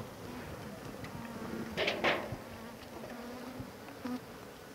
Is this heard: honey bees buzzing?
yes